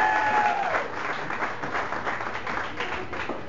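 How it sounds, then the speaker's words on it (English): Guests applaud a St. Patrick's Day toast at Ballydoyle, a steady, fairly close round of clapping from a modest crowd that holds evenly for several seconds. "Big round of applause, please."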